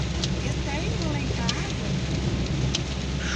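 Steady rain falls throughout while caught outdoors on a fishing trip by motorbike, a broad continuous hiss with scattered drop taps, close and even in level, with faint talk underneath.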